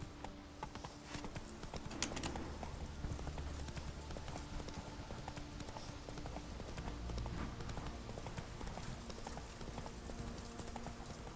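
Hooves of Roach, the horse in The Witcher 3, clip-clopping in a steady rhythm, close and fairly loud over a continuous game ambience of wind and background sound.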